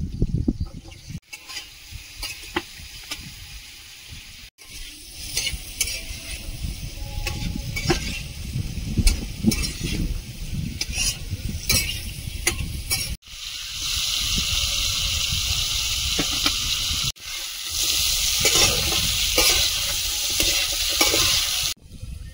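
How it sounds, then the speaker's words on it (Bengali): Green jackfruit fried with half-cooked potatoes in a hot wok over a strong flame, a loud, continuous sizzle and crackle with scraping stirs throughout, brief dropouts, and a brighter, hissier stretch later on. No one speaks. "এবার এঁচড় দিয়ে আর একটু ভেজে নেব"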